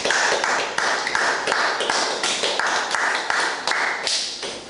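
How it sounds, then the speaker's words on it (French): A church congregation claps together in praise, a bright, steady rhythmic clapping with regular sharp accents throughout, close and lively. "Acclame pour le Seigneur"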